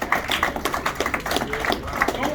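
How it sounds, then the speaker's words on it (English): Applause at a signing ceremony, a short burst of brisk clapping from a small crowd that runs throughout, with voices mixed in. "One more round of applause here."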